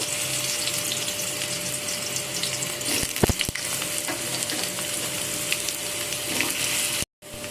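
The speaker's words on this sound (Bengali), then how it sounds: "এখন আমি কেটে রাখা আলুগুলো তেলের উপর দিয়ে নেড়ে নেব।" Cut potatoes frying in mustard oil in a wok, loud steady sizzling with stirring clatter and a few sharp knocks, cutting out briefly near the end.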